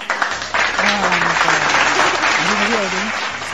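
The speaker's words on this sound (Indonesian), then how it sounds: "Oke, tim kreatif tepuk tangan." A studio applause sound effect of dense, steady clapping runs for a few seconds at even loudness, with a voice talking over it in Indonesian.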